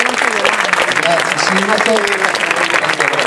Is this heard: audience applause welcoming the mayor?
yes